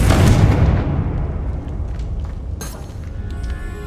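A Confringo fire-blast spell going off in the video game Hogwarts Legacy: one loud, low boom that bursts at the start and then decays, followed by a brief sharp crackle and quieter rumbling.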